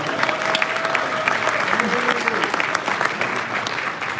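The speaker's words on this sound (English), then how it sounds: "about a round of applause for Tony Bauer." A live audience claps steadily at a Hot Wheels collectors' convention finale, a dense sustained wash of applause with voices mixed in.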